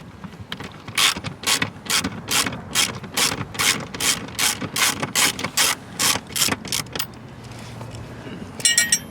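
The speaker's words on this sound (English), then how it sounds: "we're going to get our 8mm socket and remove that" An 8mm socket ratchet backs out the center screw on a 2022-2025 Mercedes EQS 450-580 sedan, clicking in a steady run of about fifteen close, loud strokes before a short jangle.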